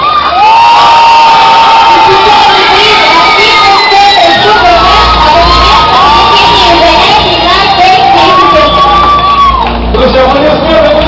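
A loud crowd at an award ceremony during a red-hair beauty contest at a festival in Izhevsk breaks into sustained cheering, whoops and high children's shouts, with applause beneath.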